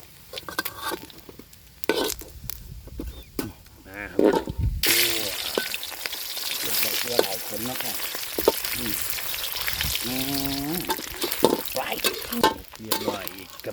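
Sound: sun-dried fish frying in a pan outdoors

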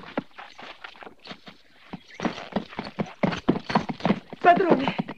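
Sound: horses trotting, hooves clip-clopping

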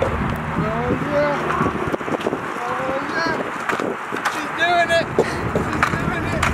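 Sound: longboard rolling with a toddler riding it

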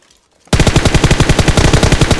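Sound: gunfire in PUBG Mobile video game

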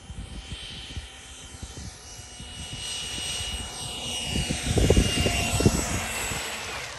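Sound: Freewing F-18 90mm radio-controlled model jet landing

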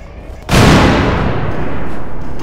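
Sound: gunfire shooting propane gas tanks in video game Garry's Mod

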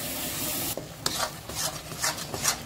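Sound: masala with poppy seed paste being stirred and fried

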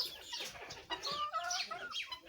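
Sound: guinea fowl calling on a small farm

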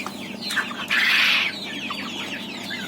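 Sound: big-footed chickens clucking on a poultry farm

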